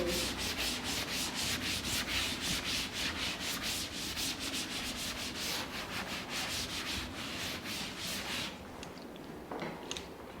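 Writing being rubbed off a board during a maths lesson: steady, rapid back-and-forth scrubbing strokes, close and continuous, which stop near the end, with no talking.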